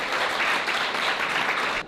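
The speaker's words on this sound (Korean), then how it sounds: "큰 박수 부탁드립니다." Steady round of audience applause at a Korean green-growth presentation event, dense even clapping of a sizeable crowd at moderate distance, continuing for almost two seconds before cutting off.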